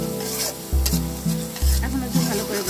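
Ground ghatkol leaf paste fries in a pan, a loud sizzle broken by several heavy stirring strokes that scrape and thump at a steady pace, with no talking.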